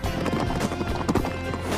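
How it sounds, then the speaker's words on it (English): A horse gallops with rapid, rhythmic clip-clopping hoofbeats, close and steady throughout the brief stretch, with music or other sound faintly underneath. "watch how a real horse runs"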